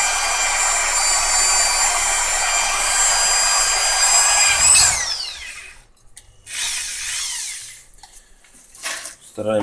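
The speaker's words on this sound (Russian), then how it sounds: "И 3 миллиметра сверло беру." A drill with a 3 mm bit bores a hole in an engine piston: a loud, steady whine for about five seconds, then it stops and short, scattered bursts of drilling and handling follow.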